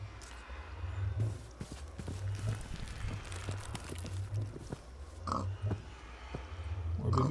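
Low Minecraft pig grunts and oinks repeat over a steady background, with soft footstep-like taps scattered throughout.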